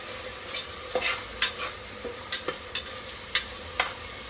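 Tomato roasts in a pan with a faint sizzle beneath it, while a spatula scrapes and taps in sharp, irregular strokes close by and nobody speaks.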